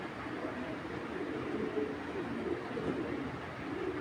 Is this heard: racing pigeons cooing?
yes